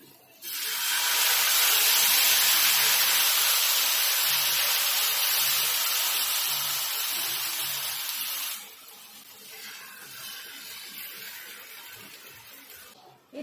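Wheat-flour batter poured onto a very hot greased tawa set on a lowered gas flame gives off a loud, steady steaming hiss for about eight seconds, then fades to a softer sizzle.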